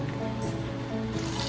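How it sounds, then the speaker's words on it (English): Mung beans get rinsed and drained, with a continuous rush of poured water sloshing and splashing close by. The flow holds fairly even, with brief brighter surges, and no one speaks. "Rinse and remove the water."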